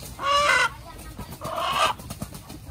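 Ayam gajah chickens in a Malaysian village, two drawn-out crowing calls a second apart, fairly close, over a soft background of scattered clucks and faint rustling.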